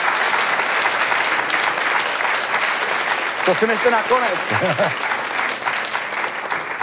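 Sustained audience applause fills a small club stage show at Malostranská beseda, steady dense clapping throughout, with a voice speaking briefly over it.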